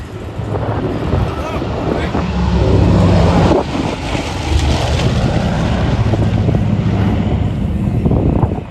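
Piston engines of a Lockheed L1049 Super Constellation drone in flight, a loud rumbling roar heavy with wind buffeting that holds steady across the whole stretch.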